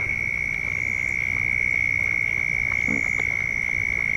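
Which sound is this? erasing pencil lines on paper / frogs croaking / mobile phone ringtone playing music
frogs croaking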